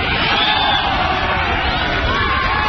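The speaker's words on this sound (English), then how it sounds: "Oh, the crowd's just going nuts." A soccer stadium crowd at a Florida vs. Washington match roars and cheers wildly in a loud, steady wall of noise with scattered yells, unbroken throughout.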